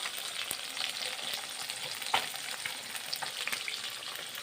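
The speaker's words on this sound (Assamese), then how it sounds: "মাছখিনি ফ্ৰাই কৰি আছোঁ, কাৱৈ মাছ ফ্ৰাই কৰিছোঁ" Koi fish fry in hot oil, a dense continuous hiss and crackle close by with occasional brighter pops, and nobody talks.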